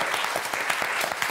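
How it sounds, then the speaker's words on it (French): A short burst of dense, lively applause from the studio audience of the French television game show Motus, clapping loudly and evenly throughout. "je voudrais qu'on applaudisse toute l'équipe"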